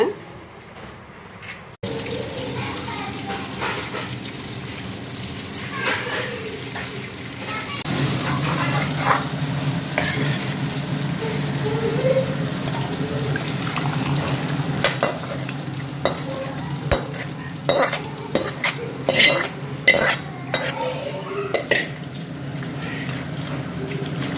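Crab soup cooking in a pot on a home stove, giving a steady bubbling, simmering hiss with occasional sharper clinks and stirring clatters, close and fairly loud throughout.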